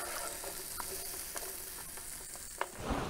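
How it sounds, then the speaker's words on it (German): Pumpkin searing in a pot for a one-pot curry, a quiet steady sizzle with a few soft clinks and scrapes and a louder knock near the end. "So, unser Kürbis kriegt jetzt so langsam Röstaromen. Also schön so ein bisschen angebraten."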